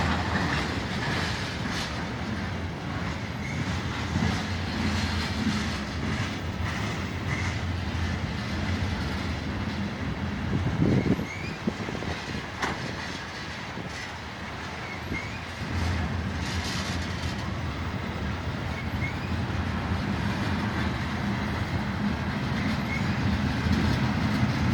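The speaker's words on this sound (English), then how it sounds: "I hope this train's not gonna stop." A long BNSF tanker train rolls past close by in a steady, continuous rumble, wheels clicking over rail joints throughout, with no talk.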